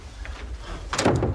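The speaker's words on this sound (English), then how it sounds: "The second drawer keeps sticking." A sticking metal filing cabinet drawer is yanked open in an office, giving a faint scrape followed by a louder grinding slide and thud near the end.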